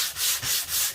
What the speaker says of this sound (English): Now we're going to take this handy dandy homemade sander I made